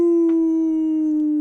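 A tabletop role-playing player howls like a dog or wolf, one long sustained, slightly falling tone that sounds close and loud, a human voice imitating the call.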